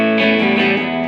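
An electric guitar chord plays through a Boss Nextone Special 6L6 amp with the bright switch off, full and sustained with a slight wavering shimmer, ringing on alone without any talking.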